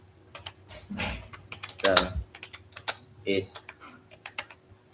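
Computer keyboard typing during a language-learning livestream: quick irregular key clicks and clattering bursts, close and clear, mixed with brief speech.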